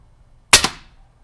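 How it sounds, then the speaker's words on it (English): A single sharp crack from a Scout .177 caliber air gun, close and loud, with a short fading tail and otherwise quiet surroundings. "we are shooting the Scout air guns in .177 caliber"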